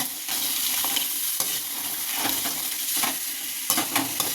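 Potatoes frying and being stirred in a hot oiled pan for a potato fry, a steady loud sizzle with occasional scraping stir sounds close by.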